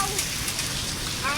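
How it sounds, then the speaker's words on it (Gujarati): Hail pelts down during a windstorm in a dense, steady, hissing patter that stays loud and continuous throughout, with no pauses. "જોઈ લે મિત્રો આ બધા કરા હે"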